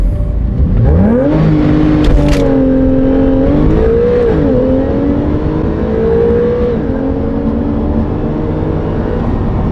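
A 370-horsepower Porsche 911 launches hard in a 0 to 60 run, engine revving loud and close as the pitch climbs through several gear changes, with steady roar and no talking.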